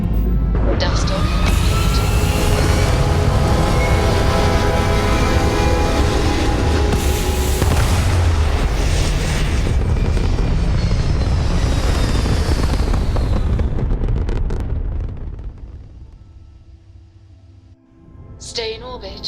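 A spaceship's engines in the Starfield video game power up for takeoff with a loud, broad roaring rumble that holds steady, then fades sharply before a brief swell at the end.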